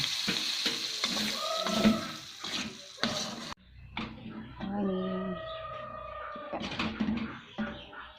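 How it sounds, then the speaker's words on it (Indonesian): Oysters and spring onions sizzle and get stirred in a pan for an Acehnese stir-fry, with frying crackle, scraping stirs and a sudden break. Some other background sounds are mixed in. "Tumis tiram daun bawang, tumis tiram sama daun bawang."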